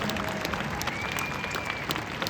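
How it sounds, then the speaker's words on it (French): Audience at an equestrian pony show clapping, a steady patter of many hands applauding at moderate distance, sustained throughout. "Je crois que vous pouvez une nouvelle fois faire retentir vos applaudissements."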